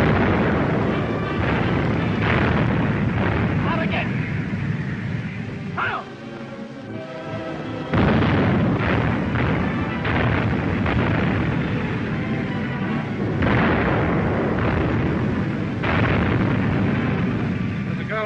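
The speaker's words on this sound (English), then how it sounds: "Tell the gunnery officer to open fire." A cruiser's naval guns fire during a sea battle against a battleship, with heavy booming blasts and rumbling roars filling the scene, loud and dense, with a brief quieter gap partway through.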